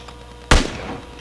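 Gunfire in the PUBG Mobile video game, one loud sharp shot followed by a decaying tail and a second shot starting at the very end, heard close.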